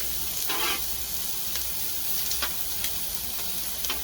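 Broccoli cooks in a pan in an RV kitchen, giving a steady close sizzle with occasional sharper crackles and stirring scrapes throughout.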